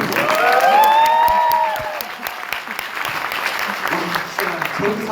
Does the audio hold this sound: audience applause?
yes